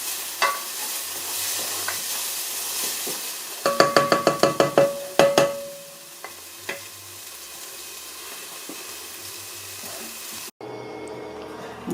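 Onions for soup sauté in a pan with a soft, steady sizzle, broken by a quick series of sharp utensil knocks and scrapes against the pan midway, then settling back to a quieter hiss.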